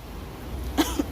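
A woman gives two short, quick coughs close by against a faint room hum.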